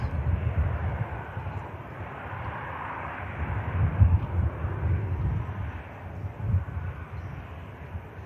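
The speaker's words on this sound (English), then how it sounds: "so the Turkish aircraft I mentioned before, that is pushback" Low, steady jet engine rumble from a Turkish Airlines aircraft during pushback at Manchester Airport, a continuous broadband roar with gentle swells, heard from a moderate distance and dominated by deep tones.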